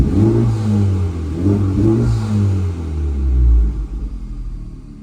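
A 10th-generation Honda Civic (2016-2021) engine revs up in a few swelling bursts, then settles back toward a steady idle rumble, close and loud, with no talking.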